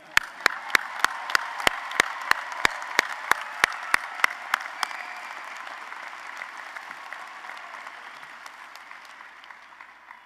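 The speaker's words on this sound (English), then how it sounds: "You can clap." Commencement crowd at an engineering college ceremony breaking into applause: a run of sharp, evenly spaced claps from one person up front, with broad clapping from the hall that carries on and slowly fades, nobody talking.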